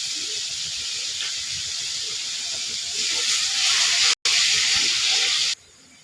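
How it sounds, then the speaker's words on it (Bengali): Onions frying in a pan with bay leaf, cinnamon, garam masala and salt give a steady close hiss and sizzle that swells louder partway through, briefly cuts out, then drops to a faint background. "এখন পেঁয়াজটা আমার লাল হয়ে গেছে ভাজে"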